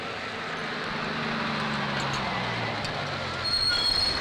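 A train rolls steadily past in a Tamil film scene, a continuous loud rumble of wheels with faint squealing tones rising near the end, no voices over it.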